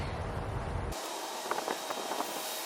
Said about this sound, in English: you want to go ahead and spray as you go because the water is what sets the flocking and basically glues it